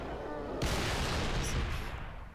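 Assault rifle fire in the Halo video game during a Flood infection match. It erupts abruptly after a short low rumble, then holds as a loud, dense, sustained stream of shots for nearly two seconds before easing slightly.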